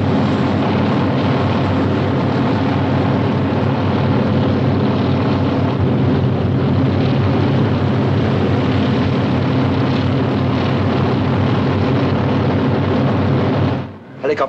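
A helicopter flies overhead, a loud, steady rotor and engine drone that holds at an even level throughout and dips briefly right at the end.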